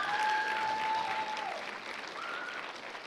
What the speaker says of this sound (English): So let's make a round of applause for that.